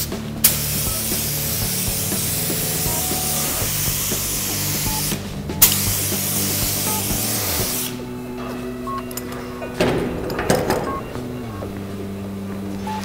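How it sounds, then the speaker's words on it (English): An aerosol can sprays hydro dipping activator in long continuous hissing bursts close up, briefly pausing twice, with a steady mechanical hum underneath and some rattling toward the end. "I'm going to spray my activator over this"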